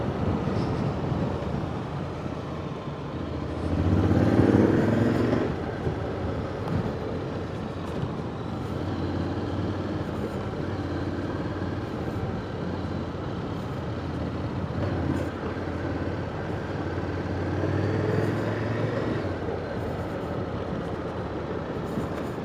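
Honda X-ADV 750 motorcycle with its stock exhaust while riding, a continuous engine drone mixed with wind rush, swelling briefly around an automatic downshift before settling into a steady cruising note.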